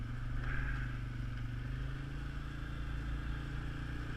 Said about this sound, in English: Four-wheeler should go right around it.